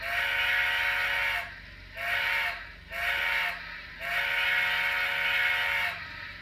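A Hornby model train's steam whistle, triggered through a Zero 1 DCC control system, blows several times, a long toot, two short ones, then another long blast, close and clear with no talking.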